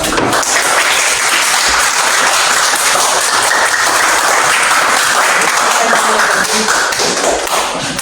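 A group bursts into sustained, dense applause for a presenting team at an academic coaching session, loud, continuous clapping filling the room from start to finish.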